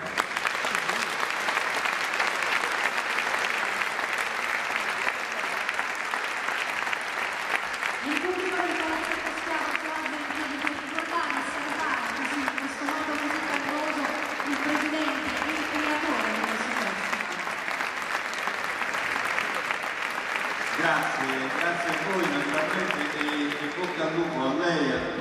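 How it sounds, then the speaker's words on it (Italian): An audience at the 29th Verdinote 2011 event applauds the president with dense, sustained clapping across the whole stretch, while voices carry on over the applause. "un applauso io lo chiedo per il Presidente Pasquale"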